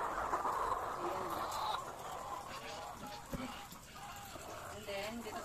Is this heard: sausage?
no